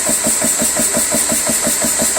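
A PCP air compressor runs steadily with a loud, even, rhythmic pumping pulse about four times a second over a constant mechanical hum, close up and without talk.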